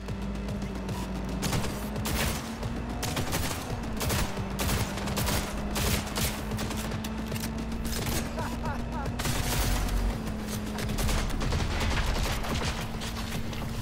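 Repeated gunfire in Cyberpunk 2077 rings out during a motorbike chase, steady sharp shots and bursts over a droning engine hum, loud and continuous throughout.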